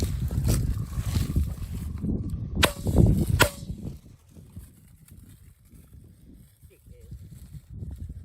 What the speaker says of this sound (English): Nice shoot, Tex.